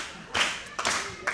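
A wrestling crowd in Florence, Alabama claps in short bursts to rally behind a wrestler, heard as three quick sharp patches of clapping.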